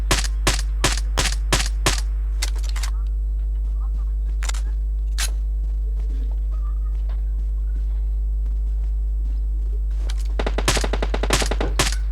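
Gunshots in a video game: a quick volley of sharp close cracks, a couple of isolated shots, a quiet stretch over steady electrical hum, then another rapid cluster of shots.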